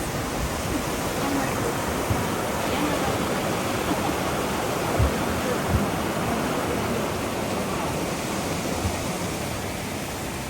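A clear mountain stream in the Roaring Fork area near Pigeon Forge, Tennessee, rushes in a steady, fairly loud wash of broad noise with occasional splashy pops, continuous for about ten seconds.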